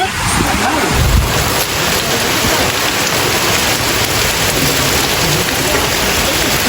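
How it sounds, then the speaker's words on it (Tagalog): Heavy rain pours steadily in a dense, loud hiss, with a low rumble early on and a faint high tone running through. "at umulan na po ng malakas."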